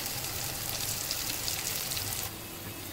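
Curry leaves sizzle in hot oil in a pan while poha is being made, a dense crackling hiss that drops slightly near the end.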